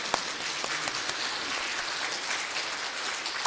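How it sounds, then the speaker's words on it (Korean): A church congregation claps in thanks during a Korean Full Gospel service, a moderately quiet continuous patter of many hands with a few sharper claps standing out, and no voices over it. "일어나게 해주신 하나님께 감사 박수 한번 하겠습니다."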